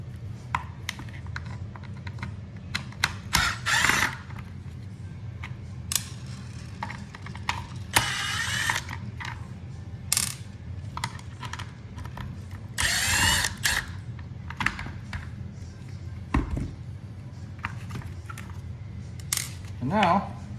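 A hand ratchet works bolts loose from the modular rear underfender of a KTM EXC dirt bike, giving repeated close clicking bursts separated by pauses, with some handling noise and occasional talk.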